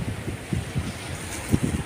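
Gusty seaside wind in Italy buffets the microphone in low rumbling bursts, with a faint hiss of open air behind it.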